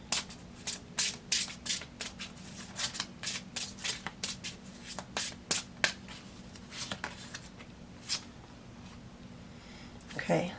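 A deck of Soul's Journey lesson cards is shuffled by hand, a quick series of crisp riffling bursts, close and fairly quiet, thinning out toward the end.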